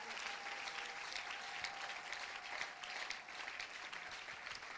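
A church congregation applauds in a dense, steady wave of clapping that carries on without a break, with faint voices in the room.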